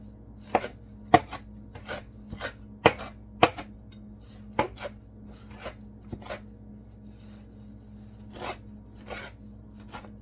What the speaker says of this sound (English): So we're going to chop this parsley up. Finely chop.